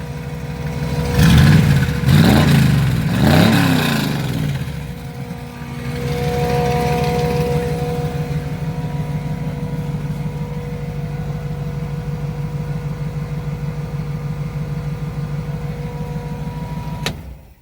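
Engine from a 1999 K10 four-wheel-drive truck, fitted in a 1970 Chevy truck, revved hard three times up close, then settling into a steady rumbling idle with a faint whine until it cuts off.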